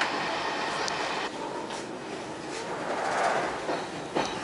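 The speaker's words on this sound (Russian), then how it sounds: "Наш поезд опаздывает примерно на час, но мы уже подъезжаем к Карсу" Steady rumble of a passenger train on the Eastern Express in Turkey, approaching Kars station, with faint rhythmic clatter of wheels on track and a few soft knocks, heard from inside.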